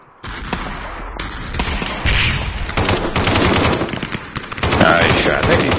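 Rapid automatic gunfire in the VR shooter Aim XR crackles in fast bursts, loud and near, building in intensity with brief gaps between volleys.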